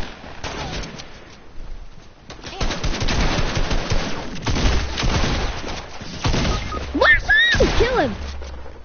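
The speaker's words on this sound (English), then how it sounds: "Hey, I'm getting shot at" Video game gunfire, sustained bursts of automatic shots and rapid cracks building in intensity, loud and near, with people talking over the shooting.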